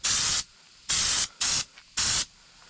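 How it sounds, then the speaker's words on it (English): A spray gun applies Raptor bed liner to the bumpers of a Nissan Hardbody truck in four sharp, loud hissing bursts of roughly half a second each, separated by short quiet gaps. "we just finished spraying the bumpers"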